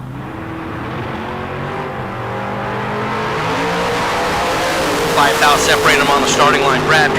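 A 1968 Camaro and Brad Pierce's 1958 Chevrolet Corvette rumble at a drag strip starting line in bracket racing. Their engines hold a steady low growl that builds into a loud launch, with an announcer's voice running over it.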